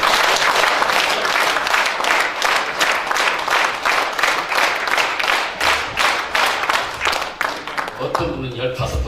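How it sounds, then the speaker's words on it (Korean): An audience at an 18th-anniversary year-end gathering claps in unison, a rapid run of sharp, evenly spaced claps that loosens near the end into scattered applause and talk. "오늘 18주년 송년회를 맞이해서 여러분들 박수 18번 쳐주실 수 있어요?"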